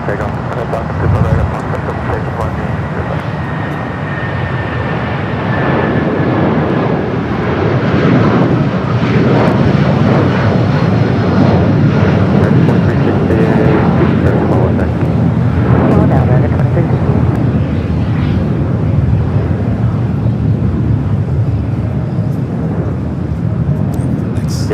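At Los Angeles airport a Lufthansa Boeing 747 pushes back amid a constant loud rumble of jet engines and airfield noise, with people talking over the steady drone.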